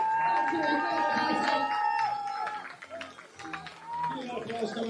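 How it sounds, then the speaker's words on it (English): Crowd applause and cheering for runners passing through on the first lap of a mile race at the Mile End Miles event, steady and fairly near, mixed with voices and calls above it. "Big round of applause for our athletes as they come through."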